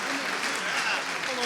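Audience applause at an award ceremony for the Pierre d'Or Avenir prize, a steady dense wash of many hands clapping at moderate distance, with a faint voice under it.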